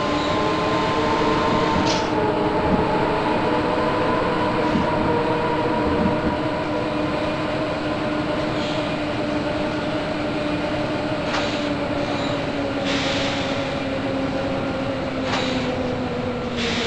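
A Berlin U-Bahn U2 subway train runs loud and steady, its motors whining in gliding tones over constant rolling rumble, with occasional clunks and squeals from the track.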